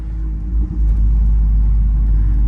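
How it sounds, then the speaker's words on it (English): A catless Toyota Camry engine and exhaust drone in traffic, a deep steady rumble with a brief dip and rise in revs before settling into a strong, continuous low growl. "how does the Camry sound, man?"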